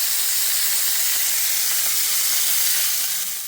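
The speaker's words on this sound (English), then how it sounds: "sear your chicken for about 3 to 4 minutes per side before removing from the frying pan" Chicken sears in a hot frying pan with a loud, steady sizzling hiss that continues unbroken for a few seconds with no talking.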